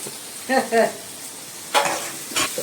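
Mutton keema frying in a pan while being stirred, with a few separate bursts of scraping and sizzling spread over a few seconds, close and moderately loud.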